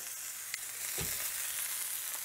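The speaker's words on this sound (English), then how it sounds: "I'm going to give it a flip. And you can see that looks great. It's got a nice crust on the first side. We're going to sear it on the other side as well." Filet mignon steak searing in a hot skillet, a steady close sizzle with a brief louder hiss and crackle as the meat settles into the pan, no voices.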